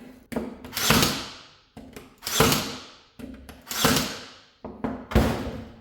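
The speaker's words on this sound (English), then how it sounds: "So if you do plan on buying a brad nailer from Harbor Freight, this Bauer brand, just to demonstrate, I didn't have any issues whatsoever using it." Bauer brand brad nailer from Harbor Freight firing four times, each a sharp loud pneumatic snap followed by a hissing decay, spaced roughly evenly and close to the microphone.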